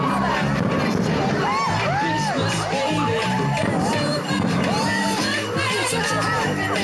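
A large outdoor crowd at a Christmas light switch-on in Macclesfield, loud cheering, whoops and excited children's shouts over a constant hubbub of chatter.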